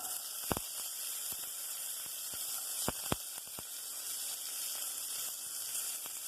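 Onion frying in desi ghee for a black rice dish: a steady, close, bright sizzle throughout, broken by a few sharp pops and spits.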